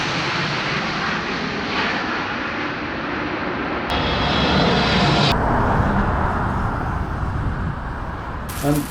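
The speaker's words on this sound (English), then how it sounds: "there would be a completely new area exposed to noise of landing aircraft" Low aircraft engine roar from a landing plane passing over Ealing, a broad steady rumble that holds throughout and swells slightly in the middle, with no talk.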